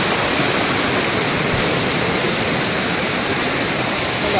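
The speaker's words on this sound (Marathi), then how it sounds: "पाणी खूप जास्त असल्यामुळे पूर्ण प्रॉब्लेम होतो आहे" Loud, steady roar of rushing floodwater after heavy rain, constant and unbroken throughout, like a torrent close by.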